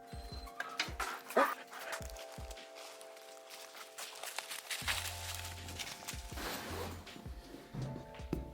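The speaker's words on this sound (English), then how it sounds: "what I want to do is actually go walk the dogs." Dogs taken out for a walk, with faint footsteps, rustling and scattered small dog sounds like a whimper or yip, recorded quietly outdoors.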